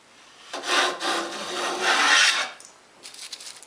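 A hand plane pulls one continuous shaving along a wood edge to form a spring joint, giving a steady, close rasping hiss for about two seconds, then a quieter scraping stroke at the end.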